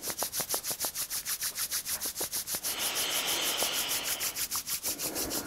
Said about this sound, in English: Just rub your hands for a minute.